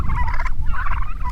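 Heritage turkeys on a pasture gobble loudly and close by, with repeated warbling calls that overlap one another and run on without a break.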